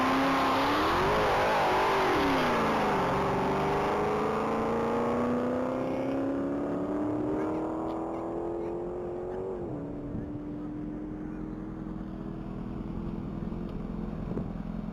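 A black 2018 Dodge Charger SRT Hellcat on its first pass down the mile at a top-speed event. The engine sounds loud and close, winding up through several gear changes with rising revs, then fades into the distance.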